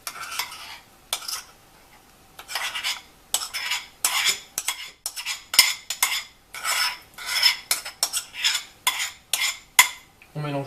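Chestnut purée is stirred into melted chocolate and vanilla sugar in a pan, giving a run of close, rhythmic scraping and sticky stirring strokes in quick bursts with short pauses, no talking.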